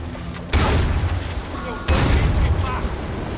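Two heavy grenade blasts in Far Cry 4 land about a second apart, each a loud sudden boom with a rumbling tail, amid game ambience and voices talking.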